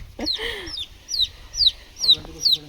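A baby chick peeps close by, giving five sharp, high, descending chirps in a steady rhythm with short gaps between them.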